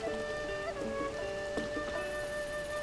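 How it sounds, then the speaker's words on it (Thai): Rain falls in the video game The Legend of Zelda: Tears of the Kingdom, a soft, continuous patter beneath sustained tonal game music. "ฝนตกครับมัน"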